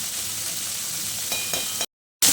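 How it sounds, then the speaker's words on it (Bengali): Beans frying lightly in a pan give a steady, close crackling sizzle with a few stirring scrapes, then a brief drop to silence before the sizzle returns. "ভালো করে একটু ভেজে নেব হালকা করে"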